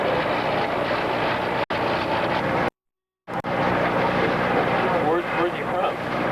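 A racing boat driven by an Allison aircraft engine makes a loud, continuous roar that briefly drops out, with people talking over the noise.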